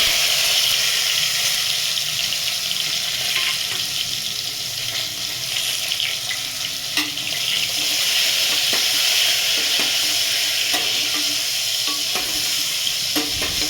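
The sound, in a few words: masala-stuffed brinjals sizzling in hot oil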